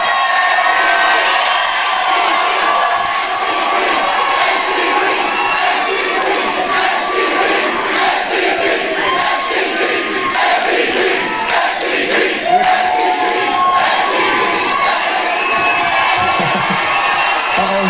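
A live crowd at a music studio concert cheers and screams continuously, high shrieks and whoops over a dense roar of voices, loud and sustained with fluctuating intensity throughout.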